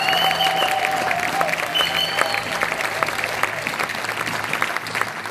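A church congregation at a French-language service applauds loudly and steadily for several seconds, with a few sustained tones ringing above the clapping.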